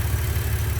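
A 2016 Maserati Ghibli S direct-injected engine idling, its high pressure fuel pump adding a rapid, steady ticking pulse over a low, even drone, close and continuous with no talk.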